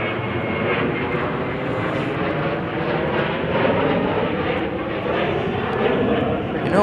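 An airliner departing at Chicago O'Hare, a loud sustained jet engine roar with rising and falling swells, fairly close and continuous, with no talk over it.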